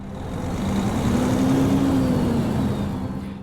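A truck engine in Euro Truck Simulator 2 drones steadily at a low pitch and swells slightly as it revs, a continuous even hum with no talk over it.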